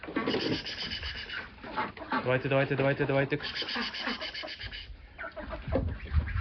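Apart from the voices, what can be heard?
roosters on a small farm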